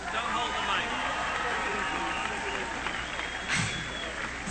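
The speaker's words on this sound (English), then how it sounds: "Give yourselves a round of applause." Crowd applause at a solidarity gathering for Palestine, a dense steady wash of clapping from many hands that fills the space throughout with no pause.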